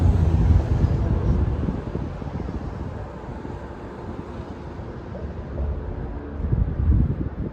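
Wind blows outdoors as a steady low rumble, pressing against the microphone with heavier gusts at the start and near the end, and no talking over it.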